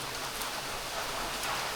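Heavy rain and wind sweep past a small outdoor cooking spot, a continuous close hiss of falling water with no talk and no breaks.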